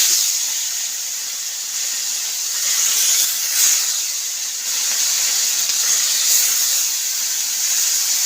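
Fish pieces, amodi (a small freshwater fish), frying in hot oil in a wok, giving a steady loud hiss and sizzle that swells and fades slightly, with no talking.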